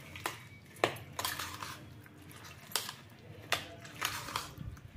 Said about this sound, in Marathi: अर्धा चमचा काश्मीरी लाल मिर्च, हळदी। आता याला आपल्याला मिक्स करून घ्यायचे।